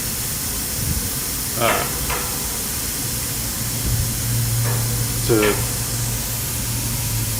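A torch flame annealing a head gasket from a 1941 Crosley microcar and burning off leftover debris, a constant loud roaring hiss with faint voices cutting in briefly a couple of times.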